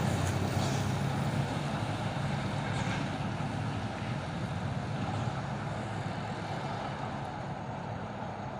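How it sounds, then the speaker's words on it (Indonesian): A Hino Euro 4 trailer truck rumbles steadily close by, a deep continuous engine drone with wind noise over it and no voices. "Ada lagi truk trailer Hercules ini, Hino Jember Euro 4."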